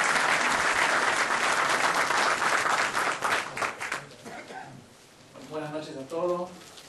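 Audience applause at a book presentation on football and violence, a dense burst of clapping that fills the first four seconds and then fades into scattered claps while a voice begins talking.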